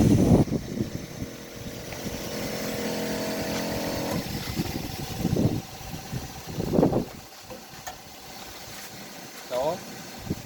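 A 12 V gas-powered espresso machine's motor runs with a steady rumbling drone, growing louder in bursts and dropping away near the end, close by.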